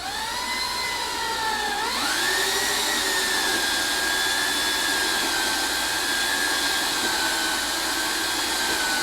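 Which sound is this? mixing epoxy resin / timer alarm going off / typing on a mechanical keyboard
mixing epoxy resin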